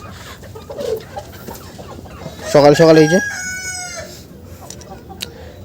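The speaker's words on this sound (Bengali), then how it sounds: "এগুলো হচ্ছে আমার খামারের প্যারেন্টস সোনালি মুরগি" Sonali parent chickens on a farm in the morning, clucking steadily close by, with a loud, harmonic rooster crow rising in the middle and fading into further clucks; a voice speaks briefly.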